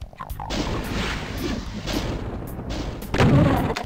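Gunfire in the shooter game Doom II, a rapid run of loud repeated gun blasts at close range, with a heavier burst of shots near the end.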